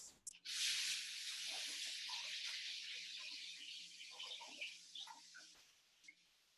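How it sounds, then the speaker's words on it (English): Cold tap water runs steadily over quinoa being rinsed in a kitchen, a continuous hissing splash with small shifts in pitch as the grains move, fairly soft and without speech. "So I'm just gonna run this over some cold water for about 30 seconds"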